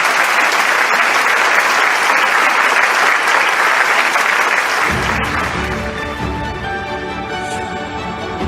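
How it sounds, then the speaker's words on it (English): A keynote audience at a Rally of Hope event breaks into sustained, dense applause, loud and even throughout before thinning slightly toward the end, with no voices over it. "please join me in offering another round of applause to Executive Director David Beasley for his inspiring keynote address"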